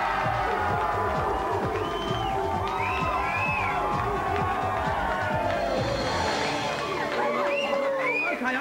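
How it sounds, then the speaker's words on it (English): A game show studio audience cheers loudly for the Games Mistress celebrity guest on GamesMaster, a dense, sustained roar of shouts and whistles that holds steady for the full stretch. "Please give a big GamesMaster cheer for the Games Mistress!"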